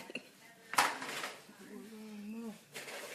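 Two baking pans set into a home oven to melt butter for bread pudding, a sharp metallic clank and rattle followed by softer scraping and clinking, with a voice talking over part of it.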